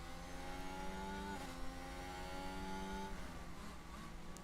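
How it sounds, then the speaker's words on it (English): A Formula 1 car on the pit limiter in F1 Manager 22, heard as a steady, held engine drone with stable harmonics that shifts pitch briefly a couple of times, continuous and fairly loud with no talk. "I can hear like a sound like a car going through a pit on the pit limiter."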